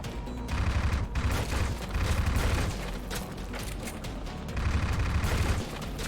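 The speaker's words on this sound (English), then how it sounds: "Maybe dual machine guns might be best for them." Machine gun fire in the video game Dread Templar: loud, sustained bursts of rapid automatic gunfire with booming impacts, pausing briefly between volleys, dense and close throughout with no talking.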